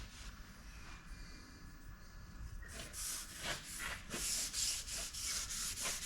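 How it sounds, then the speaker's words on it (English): A Scotch-Brite pad with degreaser scrubs a Herron K24 lathe part, starting as a faint rub and then turning into close, rhythmic back-and-forth abrasive strokes. "Lube her up with a bit of degreaser. And our Scotch-Brite, which is here."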